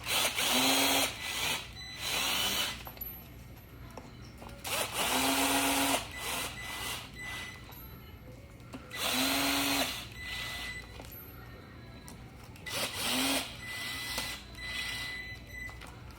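A cordless drill runs in repeated short bursts, gently driving bolts with a hex bit during a bicycle tire and tube change; the whirring spurts come close and fairly loud, separated by brief pauses.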